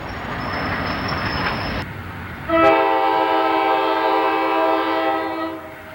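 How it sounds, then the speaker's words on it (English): A southbound coal train rumbles past at Leesport with a broad roar, then a loud, sustained horn blast sounds, holding steady over the rolling rail noise. "Here's a southbound coal train coming in Leesport."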